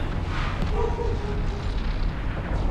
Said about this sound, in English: Woo, that was a big explosion.